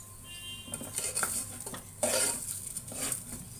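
Lentils frying in a pan for a dal with greens while being stirred, a close sizzling hiss under scraping and clinking spoon strokes against the metal, busy and continuous for a few seconds without voices.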